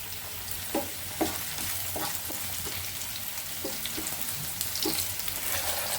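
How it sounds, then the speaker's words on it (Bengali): Onions fry in a pan with a steady, close sizzle, punctuated by soft periodic knocks and scrapes of a stirring utensil against the pan. "পেঁয়াজের সঙ্গে আমি দিয়ে দিচ্ছি এটাও ভেজে নেব লাল লাল করে"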